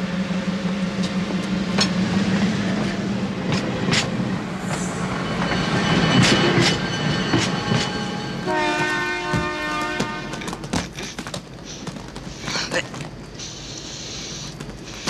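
Passenger train running on rails, with a rumbling carriage roll, clicking wheels and horn-like tones as people talk over it.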